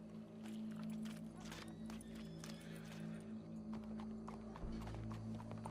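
Horse hooves clip-clop in the Red Dead Redemption 2 video game, with a faint whinny, over a steady low ambient hum at moderate loudness.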